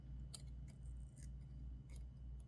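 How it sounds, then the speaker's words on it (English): Small scissors snipping a thread tag on a fly-tying hook: a few quiet, sharp metallic snips spaced irregularly over a low steady hum, close and faint, no talking. "we're going to trim off this tag just a little bit past"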